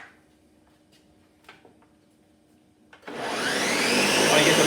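A blender purees cooked black beans for brownie batter. After a few faint knocks it starts abruptly and roars loud and steady to the end.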